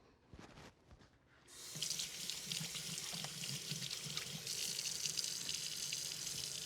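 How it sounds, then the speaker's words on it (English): A kitchen tap turns on and water runs steadily into the sink for hand washing. The flow is close and continuous and swells slightly partway through, after a few soft clicks and handling sounds. "I'm gonna wash my hands."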